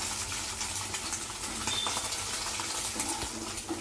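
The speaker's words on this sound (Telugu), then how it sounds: "ఎగ్ బాగా ఫ్రై అయిందండి" Egg frying in a pan while making semiya upma: a continuous, fairly quiet sizzle with crackling pops, plus occasional clinks of a spatula against the pan.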